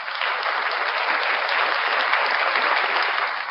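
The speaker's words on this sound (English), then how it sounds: "another quick round of applause to Blackheart Knight" An audience at a live show breaks into steady, full applause, many hands clapping evenly throughout, fading slightly at the end.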